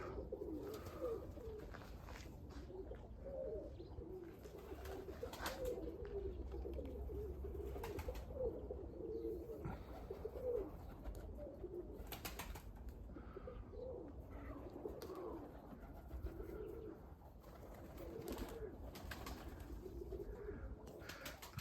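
Budapest breed pigeons coo continuously in a loft after a short flight, a soft, low, rolling murmur from several birds layered throughout, fairly quiet and unbroken by talk.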